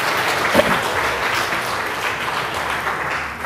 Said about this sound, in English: Give a Ray a round of applause